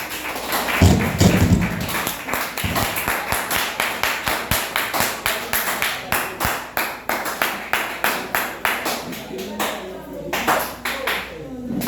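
An audience claps together in a steady rhythmic beat for about twelve seconds, loud and near, with a louder burst of cheering near the start and talking faintly underneath.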